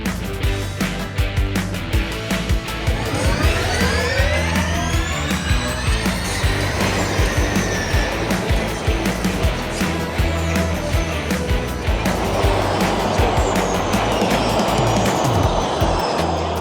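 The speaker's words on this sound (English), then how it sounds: "Cars are just starting to roll out now." Race cars roll out onto a track laid out at a former airport in Berlin, engines revving and rising in pitch as they pass, loud and continuous with steady background rumble and no talk.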